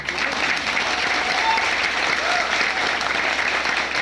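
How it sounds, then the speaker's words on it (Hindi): Sustained audience applause fills the space at an event for an actor's motivational speech, a dense, steady wash of many hands clapping at even loudness throughout. "प्लीज के लिए तालियां बजाइए।"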